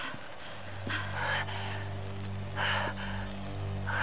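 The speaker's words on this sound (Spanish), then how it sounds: "¿Por qué estás jadeando?" A female character in the Tomb Raider video game pants heavily, with several loud breathy gasps rising and falling over a steady low hum.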